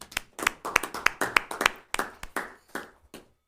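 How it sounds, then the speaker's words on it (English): A small group at a board of education meeting claps in a short, uneven burst of distinct hand claps, close and fairly sparse, fading out after a few seconds. "I think we should give you a round of applause"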